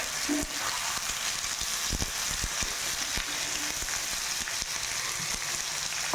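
Chicken pieces frying and being stirred in a pan for a home-style chicken curry, with a continuous crackling sizzle and scattered spatula scrapes and taps, close and steady.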